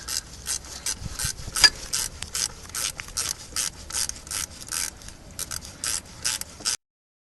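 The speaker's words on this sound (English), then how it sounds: "I'm using this ratchet 10mm, which is making life a lot easier" A 10mm ratchet clicks in quick bursts while tightening bolts on the bearing carrier of a 2002 Ford Focus 1.8 engine during alternator work; close, crisp pawl clicks come in repeated short runs with brief pauses, no talk.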